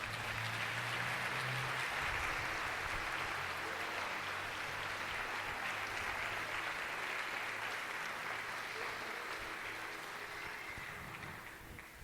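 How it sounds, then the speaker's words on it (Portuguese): Church congregation applauding during a sermon, a dense sustained wash of many hands clapping at once, steady throughout and fading slightly at the end. "Se você crê nisso, aplauda o Senhor bem forte."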